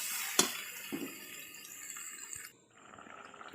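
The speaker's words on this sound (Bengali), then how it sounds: "এবার আমি জল জল ঢেলে দেবো" Water pours into shukto, a Bengali vegetable curry, in a pot with a bright, steady splashing rush, marked by a couple of sharp clinks, before the flow thins and stops.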